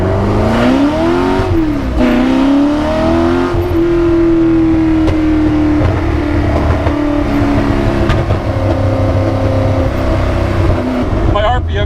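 A 1966 Ford GT40 engine screams loudly at high RPM, held pinned with a sweeping, rising then steady pitch heard from inside the car, with a voice speaking briefly over the roar.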